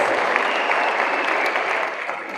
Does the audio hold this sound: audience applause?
yes